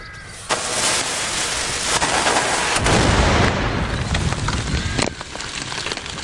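Heavy booming tank gun shots ring out outdoors, a few loud blasts with rumbling echoes and a steady background roar between them.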